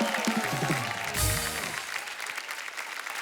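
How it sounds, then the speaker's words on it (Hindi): A studio audience on a Hindi TV comedy show applauds loudly at first, then the clapping thins and fades over about three seconds. "जोरदार तालियां हो जाए एक बार बब्बर फैमिली के लिए।"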